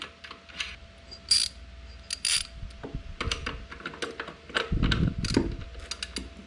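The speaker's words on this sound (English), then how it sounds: "You just unscrew the nut from the peg, insert it, and screw the nut in on the other side." A nut is screwed onto a Segway dirt bike foot peg with a series of close ratcheting clicks and metallic tapping, in irregular bursts with a brief scraping rub near the end.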